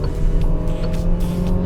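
A 2022 Peugeot 3008 Allure engine drones loudly from inside the cabin as the car pulls hard toward highway speed. Road and tyre rumble run underneath.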